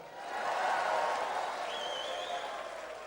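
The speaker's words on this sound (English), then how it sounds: "Everybody clap right there." A church audience applauds in a broad, moderately distant wash of clapping that swells and then fades slowly, with faint crowd murmur beneath it.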